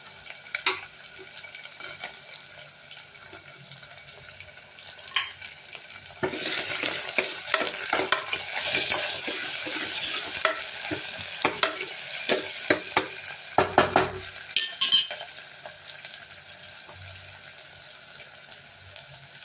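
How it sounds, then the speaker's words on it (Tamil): Green chili sautés in a pan for tomato chettinad, giving a continuous sizzle that swells louder midway as it is stirred, with scraping and tapping of the utensil against the pan up close. "அப்புறம் ஒரு பச்சை மிளகா போட்டுக்கலாம் ஃப்ரெண்ட்ஸ். போட்டு நல்லா வதக்கி விட்டுக்கலாம்."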